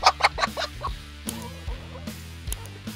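Rhode Island Red laying hens cluck close by in a quick run of short, bursty calls, then scattered single clucks over a quiet background.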